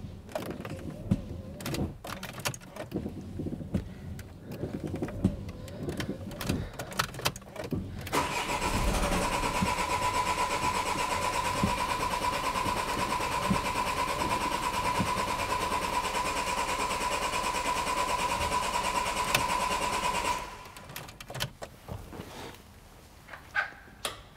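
A car engine cranks during a timed cranking-current test: a steady, even starter drone runs for about twelve seconds, then cuts off, with handling noises before and after.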